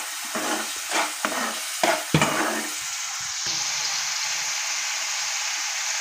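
Ginger, green chili and garlic paste stirred in a frying pan, several scraping spatula strokes over a soft oily sizzle, then a quieter steady sizzle alone.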